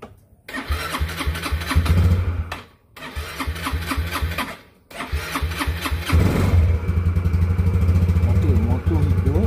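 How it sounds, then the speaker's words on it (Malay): A Yamaha Ego LC125 motorcycle engine is started: the starter cranks in two short bursts separated by brief silences, then the engine catches and settles into a loud, steady idle close by. "saya akan start motor"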